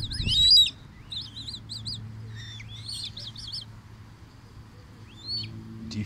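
Coot chick calling at Silbersee lake in Freiburg: repeated thin, high peeping cries in short runs, fairly close, over a low background hum, with a brief louder low sound at the start.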